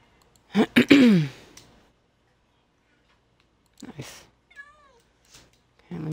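Cat meowing: one loud drawn-out meow near the start, then a few softer, shorter meows and small sounds spread out after a long quiet gap.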